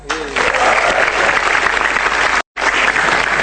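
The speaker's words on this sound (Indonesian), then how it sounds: "Tepuk tangan buat komik-komik kita." Steady crowd applause fills a stand up comedy stage, close and continuous clapping with a brief cut-out, while a voice speaks faintly at the start.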